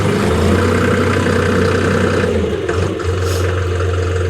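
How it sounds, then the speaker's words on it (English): A 2023 John Deere 5067E tractor engine runs at a steady, loud diesel idle with a constant low drone, briefly dipping mid-way before settling back. "So now I'll go ahead and start this tractor up"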